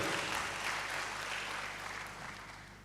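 A church congregation claps together during a sermon, a dense, steady wash of applause that fades slightly toward the end, moderately close and without speech.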